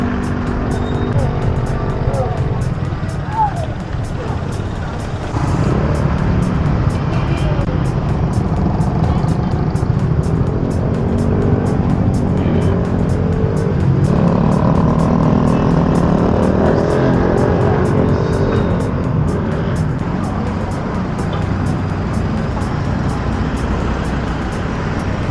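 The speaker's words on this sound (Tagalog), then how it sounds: "Balik na ulit tayo sa traffic." Road traffic just outside Batangas Pier, a loud continuous rumble of cars and trucks passing close by, with engine drones rising and falling throughout.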